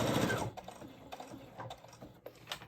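Sewing machine stitching fabric straps for a small handmade gift, a short close run of rapid stitching at first, then scattered light mechanical clicks and taps.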